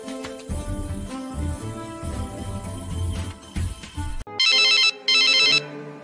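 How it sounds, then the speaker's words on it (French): A mobile phone ringtone rings in two loud, bright electronic bursts close by, after a stretch of background music that stops abruptly. "On dirait son téléphone sonne."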